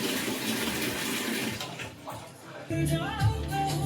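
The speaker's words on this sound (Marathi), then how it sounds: "जितकं लागेल तितकं टाकायचं व्यवस्थित पाणी" Water splashes and pours briefly into a pan of chicken curry, fading, then a steadier pour with hissing resumes, close and moderately loud.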